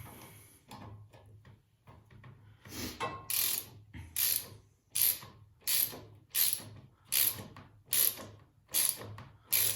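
A ratchet tightens 8 mm clamp bolts while an Apollo RFZ 150cc motorbike is being assembled, giving soft irregular clicks at first and then a run of about ten sharp, evenly spaced ratcheting bursts, close up with no talking.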